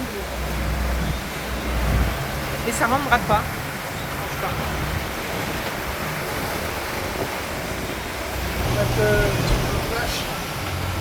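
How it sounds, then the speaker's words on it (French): Ocean waves wash and rumble steadily under gusty wind aboard the sailboat Karlana IV on an Atlantic crossing, while people talk briefly nearby. "Ouah, les vagues."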